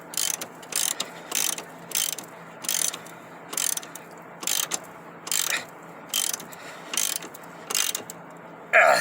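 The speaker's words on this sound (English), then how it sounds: "And I got my ratchet here." A ratchet tightens C4 suspension bolts in about a dozen short, evenly spaced bursts of rapid clicking, close and fairly loud, with no talking.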